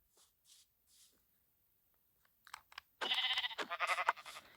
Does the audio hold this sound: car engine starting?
no